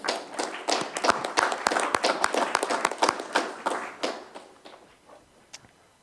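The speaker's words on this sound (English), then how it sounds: "Give him applause." An audience at a tribal council meeting breaks into a burst of clapping that builds quickly, holds for a few seconds, then thins out to scattered final claps.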